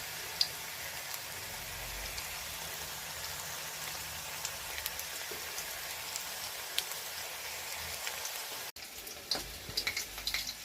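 Pieces of wheat-flour dough frying in hot oil give a steady, dense sizzle with scattered pops, close and continuous, briefly dipping near the end.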